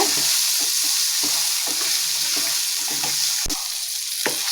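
Steady loud sizzling of spices and small onions frying in a pan, with intermittent scraping stirs and clinks of a spatula throughout.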